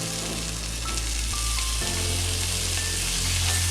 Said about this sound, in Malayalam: ഉള്ളി അങ്ങനെ ഏകദേശം വഴണ്ട് വരുന്നുണ്ട്. നമുക്കതിലേക്ക് കട്ട് ചെയ്ത് വെച്ച തക്കാളി ഇട്ട് കൊടുക്കാം.